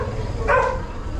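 A dog at a family house in New Zealand lets out a single short bark, moderately close, over a steady low background hum.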